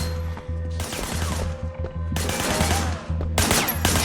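Rapid gunfire in the video game Sleeping Dogs on PS3, dense bursts of shots with brief gaps, loud and close.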